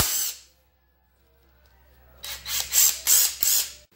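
On a 1948 Ford 8N tractor, carriage bolts come out of the hydraulic cover panel as a brief hiss followed by a run of four rhythmic, loud ratcheting bursts from a close-by tool.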